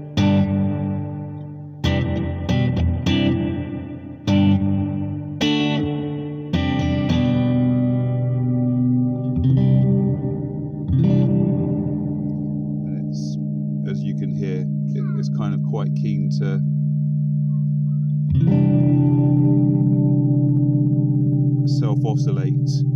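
Guitar notes ring out through a heavy delay pedal effect, repeats building into a sustained, swirling, self-oscillating wash that hangs and drones loudly.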